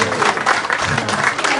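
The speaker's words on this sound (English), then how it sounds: "Biggest clap of the night." Audience clapping at a football club's kit launch and meet-the-players evening, a dense, steady burst of applause filling the room with no voices on top.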